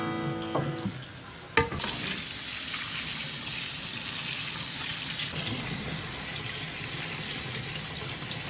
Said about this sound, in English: here I'm done washing 8 pounds of cherries